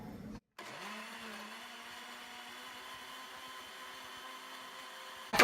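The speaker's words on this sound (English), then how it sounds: "So in this blender you have the pepper, the garlic, and the ginger. So I'm gonna mix this together." A blender whirs steadily as it purées pepper, garlic and ginger for Ghana-style jollof rice, a continuous close motor drone that starts after a brief pause, with no talking.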